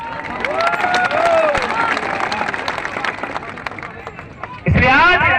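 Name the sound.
crowd gathered at a politician's rally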